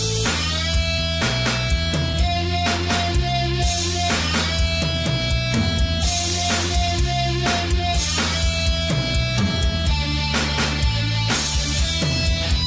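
A full band groove with drums, distorted guitar and bass playing together at a steady driving rhythm, loud and continuous without any talking.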